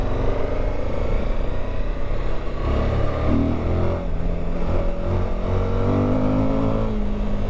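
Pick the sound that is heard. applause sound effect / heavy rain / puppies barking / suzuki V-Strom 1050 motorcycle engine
suzuki V-Strom 1050 motorcycle engine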